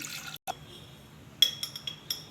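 Three glasses of water pour briefly into a pot of wheat for kheer, with a few light clinks and splashes near the end.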